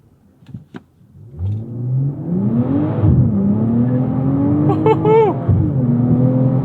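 A BMW sedan, a 2023 M340i or 2022 230i, pulls hard through its rev range, the engine note climbing steadily with a loud rising whine and a brief shift dip before revving up again.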